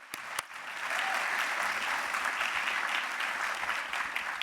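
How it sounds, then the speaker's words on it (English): A couple of sharp claps lead into sustained applause from an audience at a university thesis competition, steady and moderately distant. "Let's have a round of applause."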